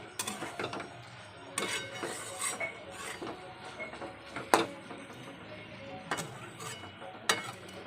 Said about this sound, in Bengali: মোচাটাকে সেদ্ধ করে যে রেখেছিলাম সেটাকে দিয়ে ভালো করে এখন কষাচ্ছি সুন্দর করে